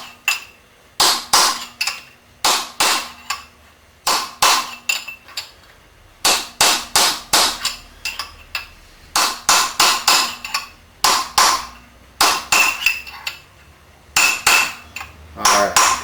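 A hammer striking a timing gear being driven onto the crankshaft of a 350 small-block Chevy engine: sharp, loud metallic blows in quick groups of two to four, repeated many times with short pauses between, close up and with no talk.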